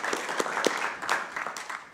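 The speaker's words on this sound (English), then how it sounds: "give him another round of applause for coming to visit us" A small audience at a county board of supervisors meeting gives a brief round of applause, sparse distinct claps close by, loose in rhythm and fading out.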